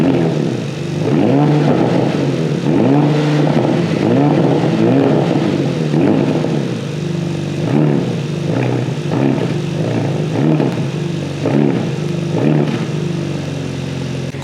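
A 2024 Porsche Panamera's exhaust is revved repeatedly at close range, with loud, throaty bursts rising and dropping over a rumbling idle.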